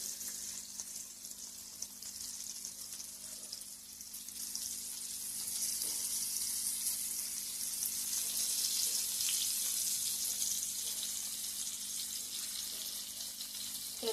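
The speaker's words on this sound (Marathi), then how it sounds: "तर एवढे मी मासे तव्यात घालून घेतलंय. आता हे आपण मस्त एकदम कुरकुरीत फ्राय करून घेऊया." Tarli fish laid on a tawa over a medium gas flame sizzle and crackle steadily while frying crisp, a soft continuous hiss throughout with no voices.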